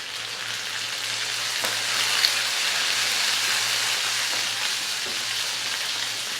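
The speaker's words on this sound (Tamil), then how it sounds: "இப்போ கொஞ்சம் கருவேப்பிலை சேர்க்குறேன்." Curry leaves sizzle in a frying pan of softened onions, giving a steady, close, hissing crackle that stays even throughout with no talking.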